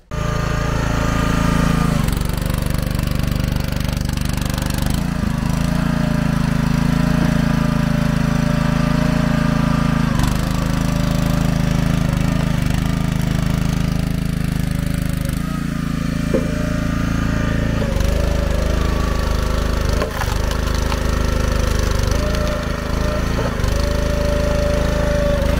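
Dead ash logs being split outdoors by a continuous loud engine-driven log splitter, a steady rumbling drone with shifting load changes throughout.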